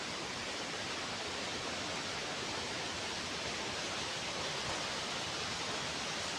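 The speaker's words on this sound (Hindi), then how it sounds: "आपको वाटरफॉल की आवाज़ सुनाई दे रही होगी" Roaring waterfall in the Kinnaur district mountains, where water falls from a height and crashes onto rocks: a steady, loud, broadband rush fills the whole stretch without pause, with no voices over it.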